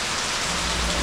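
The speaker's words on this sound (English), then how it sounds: "can't cope with this much rain" Heavy rain pours down at a luxury villa in Goa, India, spilling over tiles and running off outside the property, a dense, steady, close roar of falling water with no pauses.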